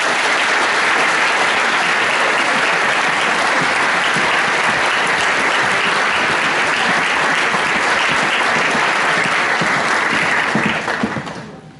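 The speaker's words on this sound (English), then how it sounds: "A grand applause, please." Sustained audience applause at a Year 13 graduation ceremony, a dense steady wash of many hands clapping for about eleven seconds before fading out at the end.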